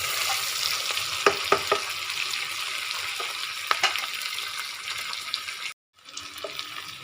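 Chopped onion, ginger and minced garlic sizzle steadily in hot oil in a pan, a dense continuous frying hiss with a few clinks of stirring and a brief pause near the end.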